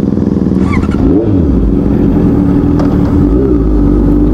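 A Royal Enfield Continental GT 650 motorcycle engine revs loudly up close, its throaty twin-cylinder note rising and falling through several throttle blips over a steady idle rumble.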